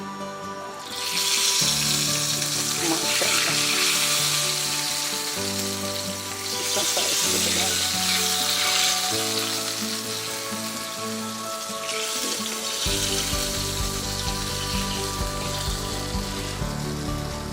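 Hot tadka poured over a pot of nihari sets off a loud, hissing sizzle that surges and fades in waves over several seconds, with a brief spoken word near the end.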